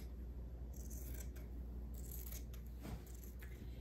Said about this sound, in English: now I am just going to cut it out